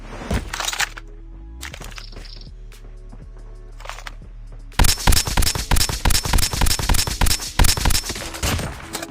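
Shots from an XPR sniper rifle in a battle royale video game: sparse cracks at first, then a fast, loud run of evenly spaced reports in the second half.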